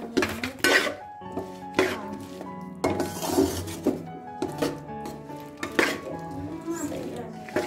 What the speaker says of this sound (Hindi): मूंगफलियाँ डाल देंगे जो हमने ड्राई रोस्ट करके रखी थी, उनको अच्छा मिक्स करके।